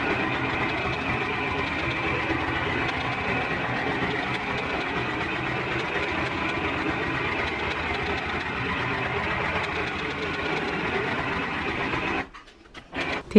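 A Lenoxx Multipoints domestic sewing machine stitches zigzag stitches on fabric, a close, steady mechanical whirring and clatter that runs continuously and then stops abruptly near the end.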